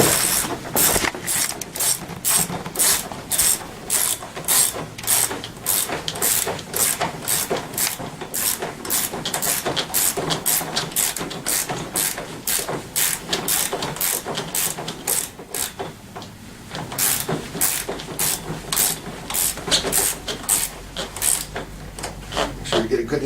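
A ratchet tightening bolts while a Tao Tao CY50 scooter is assembled: rapid, loud, regular clicking bursts repeat steadily for the whole stretch, with one short pause partway through.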